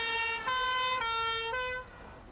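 Ambulance siren wailing in a steady two-tone pattern, loud and close, switching pitch about every half second before cutting off, with no voices.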